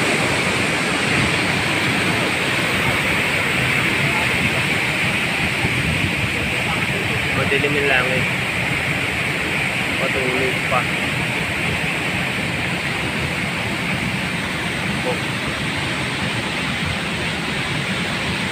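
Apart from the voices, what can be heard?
strong rushing river water during typhoon Karding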